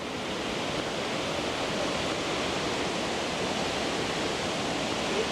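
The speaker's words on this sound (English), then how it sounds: "Waterfall." A steady, dense rush of falling water from an indoor waterfall at Doha airport in Qatar roars without pause, loud and close, with no voices.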